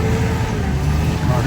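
A jeep engine drones and strains while stuck in mud on a snowy mountain road, a loud, steady low rumble close by, with a voice speaking over it.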